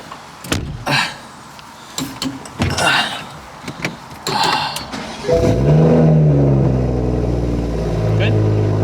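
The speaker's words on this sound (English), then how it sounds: "we're gonna turn the car on and go drive and see if we go into limp mode again." A Toyota Supra's engine cranks and catches, then settles into a loud, steady idle and pulls away with rising revs, following a few clunks and door-like thuds with brief talk before.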